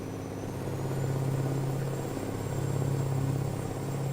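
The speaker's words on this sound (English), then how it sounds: "Nice rumble to the engine." A truck engine in American Truck Simulator rumbles in a steady, moderately quiet low drone with a faint high whine on top, unbroken for a few seconds.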